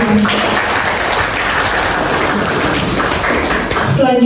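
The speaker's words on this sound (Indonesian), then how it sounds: "Mari berikan tepuk tangan yang meriah." An audience at a school principal handover ceremony at SDN Kampung Rawa 02 gives loud, sustained applause close by, and a voice cuts in briefly near the end.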